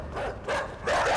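Dogs in the video game INSIDE barking and yipping in quick bursts, three short overlapping calls close together, loud and alone.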